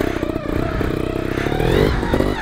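An older trials motorcycle engine runs close by, a loud rough low-pitched chugging with clattery mechanical texture that rises slightly in pitch toward the end, with no talking.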